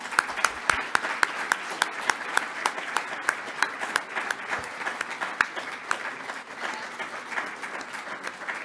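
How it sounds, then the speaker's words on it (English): Steady applause from a conference audience after the morning speakers, many hands clapping densely and continuously at moderate distance, with faint crowd murmur underneath. "I'm sure you'll join me in giving a round warm of applause for all the speakers this morning"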